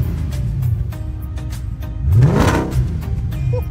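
A Mercedes E55 V8 revving at a car meet, a deep rumbling idle that rises into one loud sweeping rev and then settles back, heard nearby over background crowd noise.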